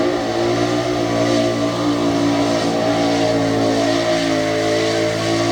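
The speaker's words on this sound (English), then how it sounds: "Here is the Dirty Banana, another Ford Ranger, Aaron Mason." Ford Ranger stock truck in a Tough Trucks Challenge mud pit race in Lima, Ohio, its engine roaring and revving continuously at high load, loud and sustained throughout.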